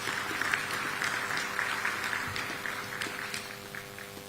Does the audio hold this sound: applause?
yes